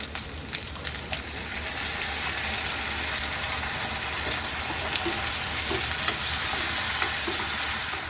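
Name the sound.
tomato paste frying with onion, ginger and garlic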